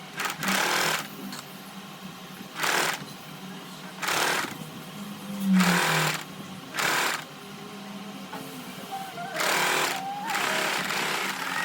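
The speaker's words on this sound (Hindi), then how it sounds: "अब यहाँ से सिलाई लगाएंगे।" A sewing machine stitching a scallop cutwork kurti runs in repeated rhythmic bursts of rapid mechanical chatter, each lasting about half a second to a second, separated by short pauses and quieter handling of the fabric.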